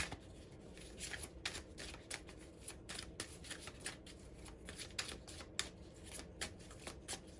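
Tarot cards shuffled by hand, close and fairly quiet, as a steady run of soft papery riffles and rustling bursts with no talking.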